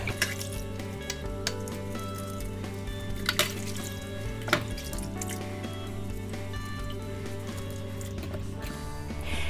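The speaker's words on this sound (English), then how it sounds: "wash everything really thoroughly, all surfaces, in hot soapy water" Cosmetic lab equipment is washed by hand in hot soapy water, with close wet squishing, sloshing and dripping, and occasional clinks of items under a steady background hum.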